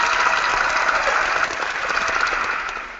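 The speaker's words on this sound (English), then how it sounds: "let's just have a round of applause." Round of applause on a music and sound therapy show, a steady wash of clapping that is loud at first and gradually fades over about three seconds.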